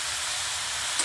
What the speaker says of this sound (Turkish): Şimdi doğramış olduğum pırasalarımı ilave ediyorum.